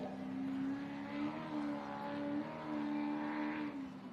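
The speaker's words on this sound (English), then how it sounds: "Motor sounds strong." A race car engine at the Gundy 500 drones on a steady high pitch that rises and falls slightly as it revs, sounding moderately close and heard alone without voices.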